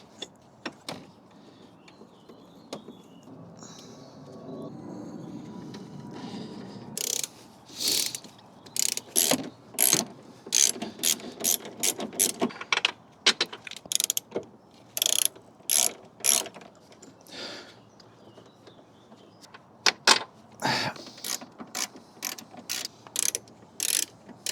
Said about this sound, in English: So let's get these 4 small bolts in now.